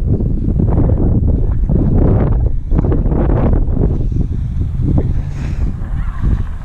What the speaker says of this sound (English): It's a pretty good gust.